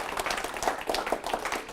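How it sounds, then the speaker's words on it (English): An audience applauds in a dense, steady wash of clapping that continues evenly throughout, with no voices standing out. "Give Joe a round of applause"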